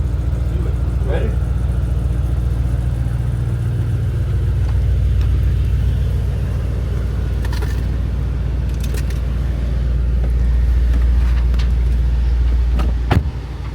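A tuned Mercedes-AMG GT63s on the move, its engine holding a loud, steady low rumble throughout from inside the cabin, with a brief clunk near the end.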